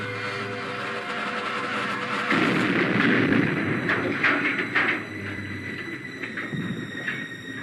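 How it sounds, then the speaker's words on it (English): A deep, rumbling blast as a car explodes when its starter is pressed, rolling on for several seconds, heavy and booming with scattered cracks, like a large explosion heard from a distance. "The explosion was heard for miles around."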